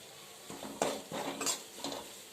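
A spatula scrapes and stirs spring onion greens with salt and asafoetida in a pan, giving a few soft clattering strokes in an irregular rhythm with a faint sizzle beneath.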